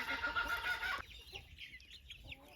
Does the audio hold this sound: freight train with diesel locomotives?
no